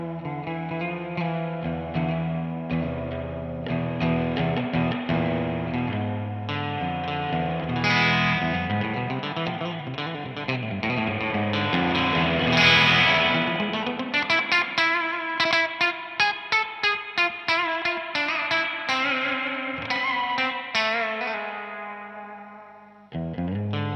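An instrument played through an Anasounds Elements spring reverb in saturation mode rings out as distorted, harmonically rich chords and notes with a splashy spring tail, ending in quick staccato hits that decay into reverb.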